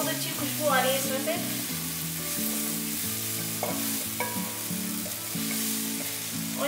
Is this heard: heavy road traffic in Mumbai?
no